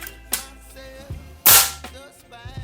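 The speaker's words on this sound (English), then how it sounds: "let's go for a 10-shot string here." Two sharp, loud cracks from an FX Wildcat Compact .22 caliber air rifle fired in a shot string, each snapping on abruptly and fading fast, with the second shot noticeably louder.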